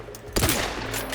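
A single sharp rifle shot in The Outer Worlds 2 rings out close and loud, followed by a short decaying echo over dense in-game background noise.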